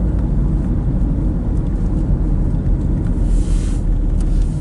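A car stuck in slow road traffic, with a steady loud low engine and road rumble plus wind noise throughout, close and continuous with no talk.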